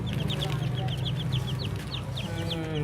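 Chickens clucking in a farmyard, a continuous run of rapid repeated clucks over a steady low background hum.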